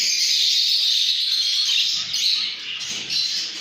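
Painted finches chirping in breeding cages, a dense chorus of high twittering calls that keeps going, close and loud, with no voices.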